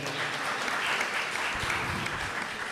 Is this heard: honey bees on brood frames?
no